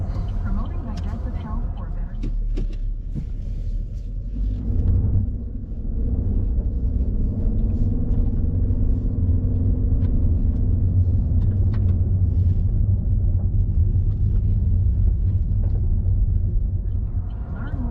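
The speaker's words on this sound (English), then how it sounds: "Today, we're driving a Chevrolet Malibu." A 2023 Chevrolet Malibu rental car driving, a low steady engine and road rumble heard from inside the cabin, continuous and fairly loud, with someone talking over it throughout.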